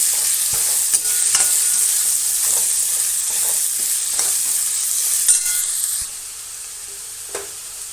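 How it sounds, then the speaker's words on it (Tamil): Steady sizzling of onions sautéing in ghee, close and loud, with occasional scraping stirs and clinks of a utensil against the pan. "நல்லா வதங்கட்டும்"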